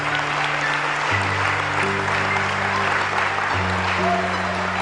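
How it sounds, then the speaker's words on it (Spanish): A church congregation claps in dense, steady applause while sustained low organ or keyboard chords shift underneath. "Dale un aplauso al Rey con todo tu corazón"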